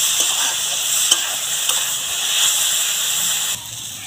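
Potatoes and carrots fry in a pan for vegetable chowmein, a loud, even, steamy sizzle with occasional soft stirring knocks near the start.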